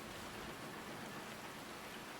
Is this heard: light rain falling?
yes